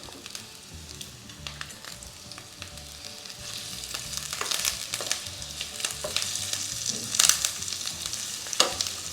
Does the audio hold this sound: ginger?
yes